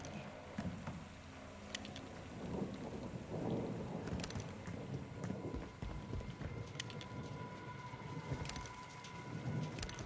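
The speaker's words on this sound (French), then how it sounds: "Il pleut à verse." Heavy downpour with rumbling thunder in the video game Call of Duty Modern Warfare 2, a steady dense wash of rain holding at a fairly even loudness throughout, with occasional sharper impacts and no talking.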